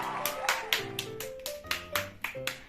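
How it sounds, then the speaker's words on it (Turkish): Children clapping their hands at home during a game, giving a run of sharp claps at an uneven pace, close by, over a faint background tone. "Alkışla oğlum."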